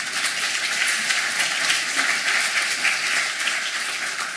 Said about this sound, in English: Yes, you can applaud for that.